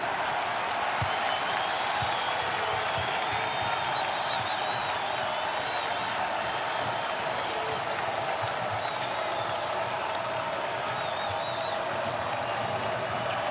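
Basketball arena crowd at a Villanova Wildcats vs Xavier Musketeers game roars and applauds in a steady, dense wash of cheering that holds loud throughout, with faint commentary voices underneath.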